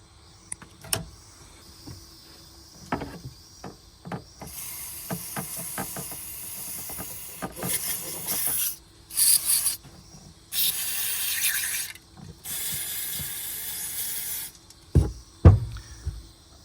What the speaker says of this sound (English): spray it all over with a contact clean.